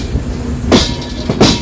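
The 12134 Mangaluru Mumbai Superfast Express runs early in the morning, heard from inside an unreserved general class coach as a loud, steady rumble with two sharp rattling bursts of wheels over rail joints.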